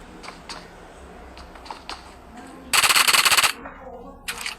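Rapid P90 submachine gun burst in PUBG Mobile, a loud continuous rattle of about a second after scattered quieter clicks and taps, with a brief shorter burst near the end.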